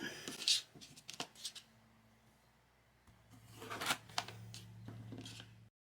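A knife cuts sweet potatoes into fry-sized sticks, a few crisp slicing and tapping strokes on a board, separated by quiet gaps and a low background hum.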